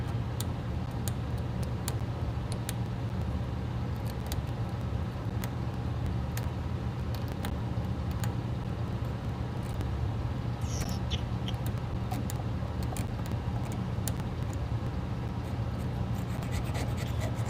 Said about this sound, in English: I'm just kind of focusing on scraping